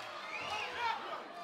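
Turkish crowd at a boxing match rising to its feet and cheering, a steady roar of many voices swelling slightly midway, with a commentator's voice riding over it.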